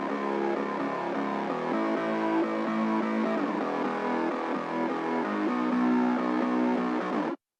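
Two stacked mid bass synth layers, one a growl patch, play a dense harmonic progressive house line with shifting pitches and steady loudness for about seven seconds, then cut off abruptly.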